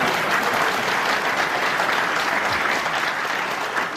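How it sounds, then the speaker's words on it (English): A World Championship snooker crowd breaks into sustained applause and murmuring as a ball runs near a pocket, a broad continuous wash of clapping from a large arena audience. "You always get a reaction from a crowd when a ball goes near a pocket."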